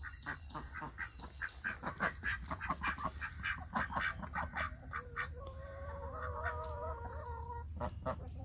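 Chickens cluck and murmur close by in a busy flock, with a few higher drawn-out calls rising over the chatter toward the end.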